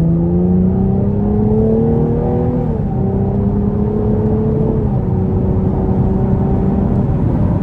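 A 2024 Chevrolet Camaro convertible 2LT RS accelerating under moderate throttle, its engine note climbing steadily through two gear changes, loud and continuous from inside the cabin.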